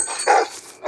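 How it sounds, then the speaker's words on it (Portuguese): Dog barking in the Head Horse horror video game, two short, sharp barks about half a second apart, fairly close and alone without talk. "Eu vi que tem um cachorro agora"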